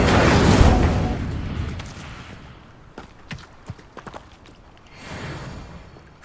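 Incendio fire spell cast in the wizarding game Hogwarts Legacy, a loud whooshing burst up front that fades into scattered sharp impacts and crackles, then a second softer rush near the end.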